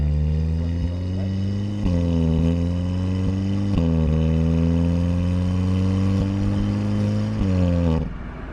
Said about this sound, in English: this is what the car sounds like in normal drive mode. Oh, wait, sport. What it sounds like.